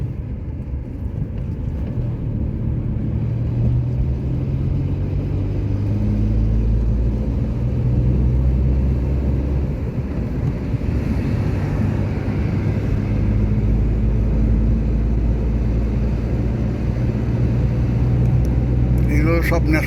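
Car cruising along the wide Durgapur Expressway, a steady low road rumble and engine drone running throughout with people talking over it.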